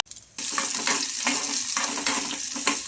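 Green chillies and unpeeled garlic cloves fry in a spoonful of oil for a dosa side dish: after a brief quiet start, a bright, steady sizzle begins abruptly and carries on loud and close, with no speech.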